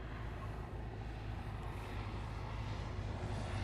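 An aerobatic airplane comes in to land at an aerobatics championship, its engine a steady, fairly loud drone held throughout with no talk.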